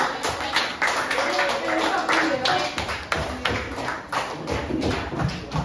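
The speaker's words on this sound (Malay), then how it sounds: "tepuk tangan. Ucap terima kasih kepada awak." A class of students claps hands together in a classroom, a steady, brisk patter that fills the room, with faint voices mixed underneath.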